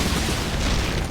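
A nuclear strike detonates in StarCraft II, a loud sustained broadband roar of explosion filling the whole moment without pause, heavy rumble underneath, with no voices over it.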